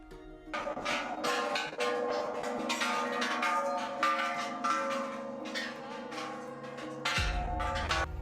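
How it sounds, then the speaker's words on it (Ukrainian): Temple bells are struck one after another, their ringing tones overlapping and lingering, loud and fairly near. "вони зупиняються біля кожного дзвону і б'ють у нього"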